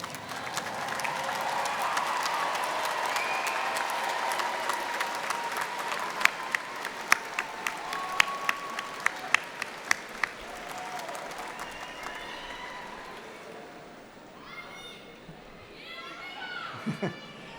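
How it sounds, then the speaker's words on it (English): Graduates at a Drexel University College of Arts and Sciences commencement clap for their family and friends, a broad steady wash of applause from a large crowd with sharp individual claps, fading toward the end as voices and cheers carry over. "give your family and friends a huge round of applause"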